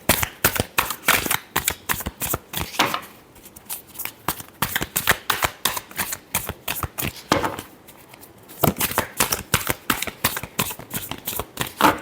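Tarot cards being shuffled by hand, rapid crisp riffling bursts in quick sequences, close and clear, with a short pause in the middle.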